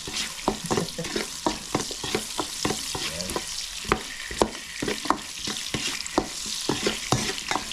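Garlic, onion and ginger fry together in a hot pan, with a steady sizzle broken by regular scraping strokes of a spatula stirring the aromatics, close and fairly loud with no talking.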